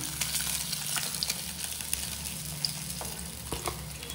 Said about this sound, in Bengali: গাইজ আমাদের মাছ ভাজা হয়ে গেছে, চলো মাছগুলোকে তুলে নিই।